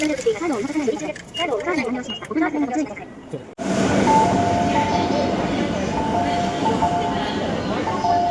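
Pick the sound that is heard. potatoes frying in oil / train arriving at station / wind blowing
train arriving at station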